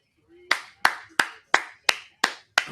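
Seven sharp hand claps at a steady rhythm, close and loud, with a quiet pause between each, from someone watching a Bulls preseason basketball game live.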